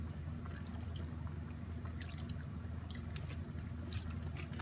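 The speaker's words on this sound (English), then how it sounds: "let's add a little of water" Water poured into a pan of halved crabs for crabs in coconut milk, a continuous splashing and dripping trickle, close and steady over background noise.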